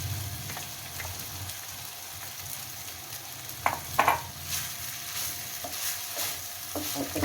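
Samak rice is roasted in an oiled pan for a vrat meal. A steady, moderate sizzle runs throughout, broken by a few louder scraping and stirring bursts midway.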